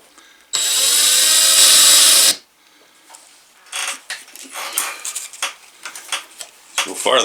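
Sandpaper wrapped around a piece of coat hanger, used as a homemade burnishing tool. A loud, steady rasping burst comes first, then a run of shorter, scratchy, uneven strokes up close.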